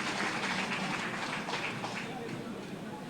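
An audience at an official event in Bhopal gives loud applause welcoming the local MP, a dense wash of clapping that starts strong and fades slightly over a few seconds.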